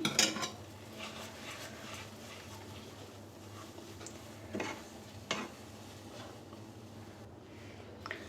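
A spoon stirs milk and semolina in a pot, with sugar and a pinch of salt, while the sweet dough for semolina ras malai cooks. The scraping and clinking are soft and steady, with a few sharper knocks near the start and in the middle.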